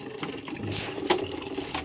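Water splashes and trickles close by for a couple of seconds, a brief gurgling pour with small spatters as it is poured out for washing.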